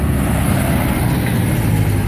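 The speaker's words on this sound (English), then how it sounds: "Here comes a truck." A truck rumbles loud and close on a countryside road, a dense steady engine and tire roar filling the whole moment without speech.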